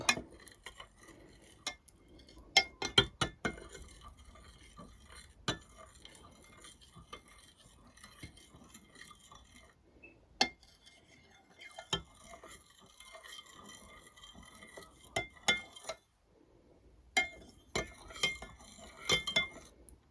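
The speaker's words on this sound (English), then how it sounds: "I'm just going to mix it up." A utensil stirs water with pickling lime in a container, clinking in irregular bursts, with scraping swirls and occasional sharp taps, no voices.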